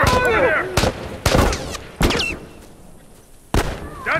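Sharp, loud gunfire bursts from a machine gun turret in the video game The Last of Us, several separate volleys spaced a second or so apart, with voices and game sounds in between.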